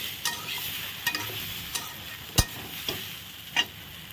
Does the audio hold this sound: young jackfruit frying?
yes